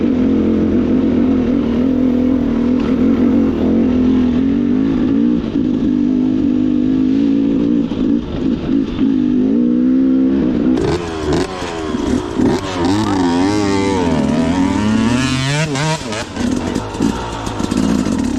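Dirt bike engine revving loudly on a rainy outing, a steady drone that breaks into sharp rising and falling revs partway through, close and continuous.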